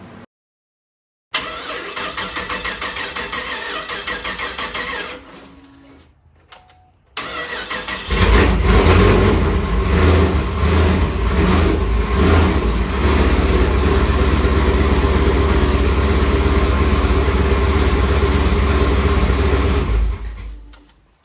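Pontiac G8 with an upgraded exhaust cranks and fires, settles briefly, cuts out, then restarts and runs with a loud, deep, steady rumble at close range, with no talking.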